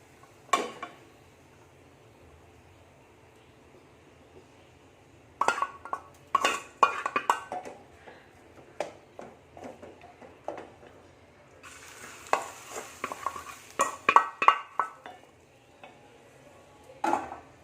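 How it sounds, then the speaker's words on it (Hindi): Short bursts of sizzling and clinking in a pan as tempering is added to dal, followed by stirring scrapes and metallic clinks, moderately close with quiet gaps between. "अब हम इसमें इसका तड़का लगाएंगे"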